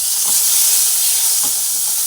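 Okra frying together with tomato in a pan, a loud continuous close sizzle with two soft stirring scrapes and no talking.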